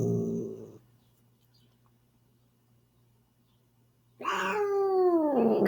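An angry cat growls while being given subcutaneous fluids, a low rumbling growl, then a few seconds of near silence before a louder, drawn-out wavering growl-yowl up close.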